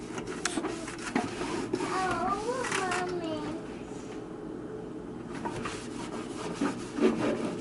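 Cloth or sponge rubbing and wiping the inside walls of a microwave after steaming it with lemon, a soft close scrubbing sound with light knocks against the appliance, running under quiet background voices.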